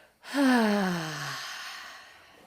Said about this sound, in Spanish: Y vamos a dar otra respiración y otro...